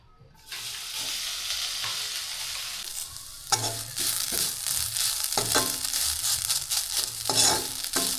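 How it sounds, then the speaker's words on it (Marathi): Grated coconut sautéing in ghee with jaggery in a pan gives a steady, close sizzle with a spatula repeatedly scraping and stirring through it, no talking. "खोबरं थोडंसं परतून घेऊन"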